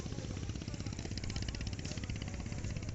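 A low, steady chugging of three trawler boats' engines approaching, with a rhythmic rattle, droning continuously at moderate distance.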